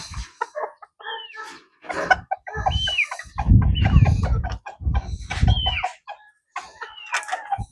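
Goldline chickens clucking and squawking in a farm pen, with a rooster-like crow among the repeated calls, close and moderately loud over scuffling.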